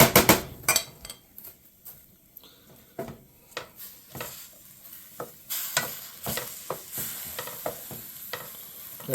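Onions frying and sizzling in a pan over moderate heat, cooked down toward caramelization, with a steady sizzle broken by repeated sharp scrapes and clinks of a utensil stirring against the pan.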